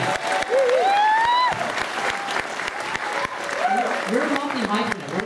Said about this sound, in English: One more big round of applause for Jesse!